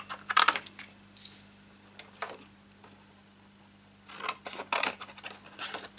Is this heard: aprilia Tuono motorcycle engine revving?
no